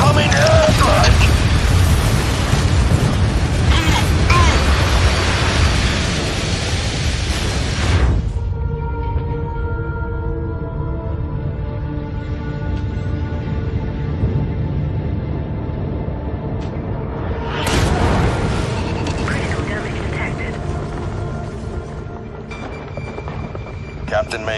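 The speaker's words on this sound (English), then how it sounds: "Incoming airstrike!" Airstrike explosions in the mech combat game MechWarrior 5 roar as loud, sustained booming rumble for several seconds, then fade into a steady hum and tonal drone before another burst of heavy blast noise.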